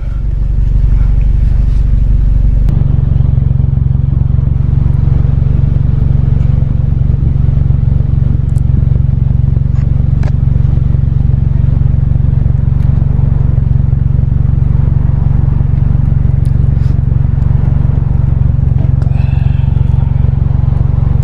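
A warmed-up Nissan 240SX engine idles steadily up close, a loud, constant low drone that settles slightly lower after the first few seconds and holds without revving.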